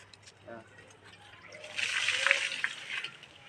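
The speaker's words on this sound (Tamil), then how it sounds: "இந்த தண்ணி வேஸ்ட் இல்லாமல் ஊற்றிடுறேன்" Water is poured onto a curry leaf plant, a quiet start giving way to a swelling splash and gush that peaks midway, then trickles on faintly.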